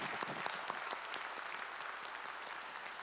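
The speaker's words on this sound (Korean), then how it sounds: "우리 찬양 받으실 주님께 영광의 박수 올리겠습니다" A congregation claps in praise during a Korean Sunday church service, steady overlapping applause with a few sharper individual claps standing out, heard at a moderate distance.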